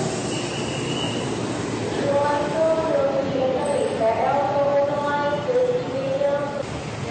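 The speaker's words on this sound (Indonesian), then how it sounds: "Wah, kereta baru ya." A new commuter train on the Bogor line passes close by, wheels squealing and rumbling loudly over the rails, while people talk underneath.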